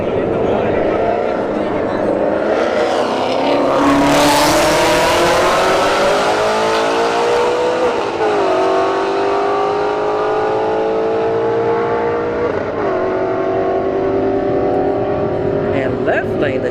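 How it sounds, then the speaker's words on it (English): A Shelby GT350 and an S197 Mustang launch side by side at a drag strip, their V8 engines revving hard and rising through repeated gear shifts as they roar away, loud and sustained. "Shelby GT350 left lane, S197 Mustang right."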